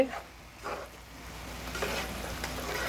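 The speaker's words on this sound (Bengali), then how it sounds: "সব কিছু দিয়ে একবারে মাখাইয়া তেলের মধ্যে একদম ছেড়ে দিয়েছি।" Spiced potato, mixed with chilli and a light spice powder, fries in hot oil with a soft steady sizzle and a few brief louder bursts of crackle, close by and without talk.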